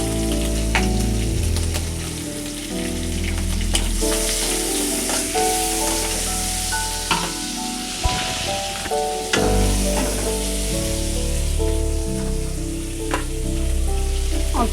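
Onions fry in a pan for a home-grown sweet pumpkin dish, giving a close, steady sizzle with occasional stirring taps. Sustained tonal sounds run underneath throughout.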